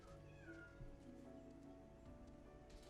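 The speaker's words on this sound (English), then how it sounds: "Boo has like a deep meow" A cat meows faintly, a few drawn-out, wavering cries rising and falling over a quiet background.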